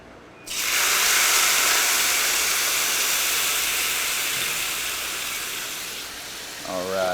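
Sauce reducing hard in a hot restaurant pan gives a loud, steady steam hiss and sizzle that starts abruptly and holds for several seconds, easing slightly toward the end.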